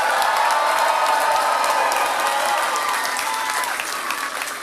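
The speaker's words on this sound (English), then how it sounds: "let's give them a huge round of applause" A crowd at an election night victory speech applauds and cheers, a thick, sustained wash of clapping with whoops mixed in, loud and steady throughout, easing slightly toward the end.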